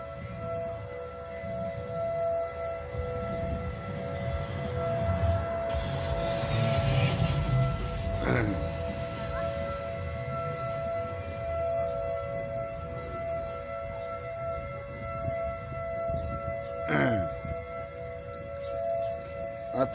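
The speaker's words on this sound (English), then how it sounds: "Here comes the sirens again." Outdoor civil defense tornado warning sirens wail during a storm, a steady drawn-out tone that rises and falls from a distance while wind and ambient noise rumble beneath.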